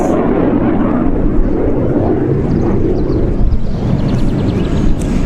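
A loud, continuous jet roar from F-16 fighters passing overhead outdoors by a zoo, a dense rushing rumble that holds steady for several seconds with a faint higher whine near the end.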